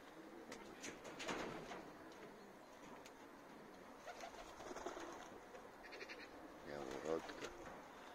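Young racing pigeons flying around a new loft for the first time, with soft cooing and wing flutters at a distance, some buzzing insects and someone talking at intervals over the outdoor ambience.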